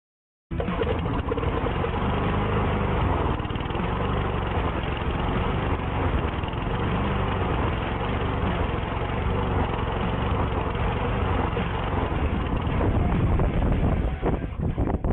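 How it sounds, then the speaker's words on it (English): An Ariens 21-inch cut walk-behind lawnmower engine starts abruptly and runs steadily at a loud, constant buzzing drone for the whole stretch, with some wind buffeting on the microphone. "It's an Aaron's 21-inch cut lawnmower"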